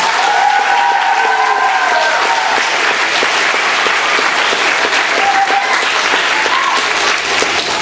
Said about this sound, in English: could we give her a round of applause as well?